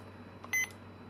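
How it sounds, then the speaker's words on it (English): A single short, shrill electronic beep from a handheld brick game as a piece rotates, clean and close, over a low steady hum. "it just sort of beeps when you rotate"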